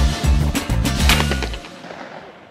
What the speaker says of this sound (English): We're gonna shoot out of the low house.